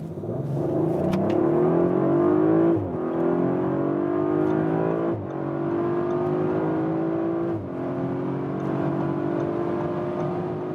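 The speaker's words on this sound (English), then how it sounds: "We'll start here about 30 kilometers an hour and accelerate it out." A BMW or Mercedes performance car accelerates hard from about 30 km/h. The engine note rises loudly and steadily, with brief dips at each gear change, and heard from inside the car.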